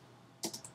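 Three quick computer keyboard keystrokes while typing a document in Microsoft Word, close and fairly faint, in quick succession over an otherwise quiet background.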